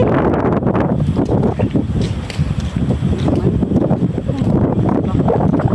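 Strong wind roars across the microphone outdoors in Taiwan, a loud, continuous buffeting rush that rises and falls slightly with the gusts.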